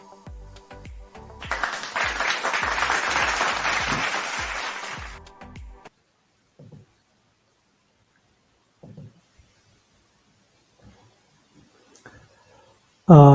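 Audience applause welcoming a speaker at a talk, a dense burst of clapping that lasts a few seconds and then stops, followed by near silence with a few faint scattered sounds.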